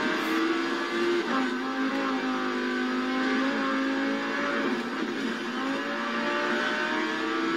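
Race car engine from the Forza Horizon 4 video game holding a steady high drone with shifting harmonic pitch, dipping briefly as if shifting or braking, then climbing again, loud and continuous without talk.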